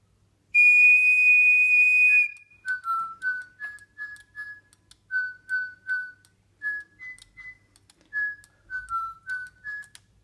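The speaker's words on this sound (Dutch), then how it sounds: "pakt de magische ring en fluit naar de Digibird" A person blows one long steady whistle near a Digibird toy bird, then a run of short bright whistled chirps follows in a quick, uneven rhythm, clear and alone.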